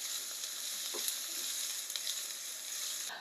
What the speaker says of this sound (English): Give it a stir to make sure all the onions are coated, and then we're going to let this cook until those onions are tender.